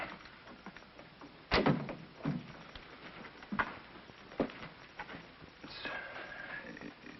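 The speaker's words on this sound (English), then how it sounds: "Close the door." Door being shut in a 1951 film scene, with a sharp bang early on followed by several smaller knocks and shuffles against a quiet background.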